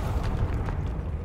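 The Confringo fire-blast spell from the video game Hogwarts Legacy lands as a short, heavy, rumbling explosion, dense with low-end roar and no speech.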